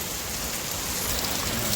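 Heavy rain pouring down at night in a village during a thunderstorm, a dense, steady hiss with no pauses and no voices.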